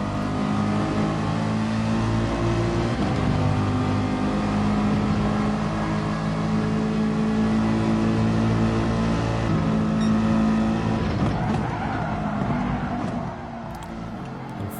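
GT3 race cars, Porsche and Ferrari, roar through a league race in a racing video game around lap 39, a loud, continuous engine drone with steady pitch that shifts and thins near the end as another car closes in.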